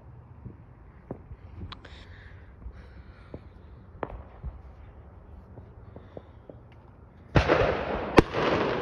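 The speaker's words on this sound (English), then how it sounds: "they're going to set off more fireworks." Faint distant Fourth of July firework pops and thumps over quiet outdoor ambience, then a louder crackling firework burst near the end.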